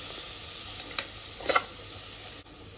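Mint and coriander leaves are stirred into a sizzling biryani masala for a vegetable biryani made with ration rice. A soft, steady frying hiss runs under a few light spoon scrapes and clinks.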